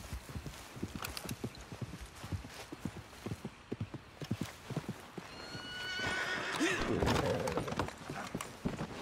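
In a cowboy video game, a horse's hooves clip-clop in a steady walking rhythm, then the horse gives a loud, drawn-out neigh near the end.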